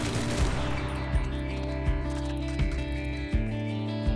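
Rapid automatic gunfire from a battle pass weapon in Enlisted, a World War II shooter, rattling in quick bursts over a steady in-game engine and battle hum, with several heavier low thumps punctuating the mix.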